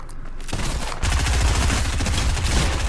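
Gunfire in Fortnite, with a loud, close stream of rapid shots that runs almost unbroken through the short stretch.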